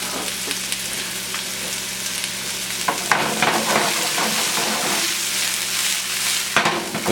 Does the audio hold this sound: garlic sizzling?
yes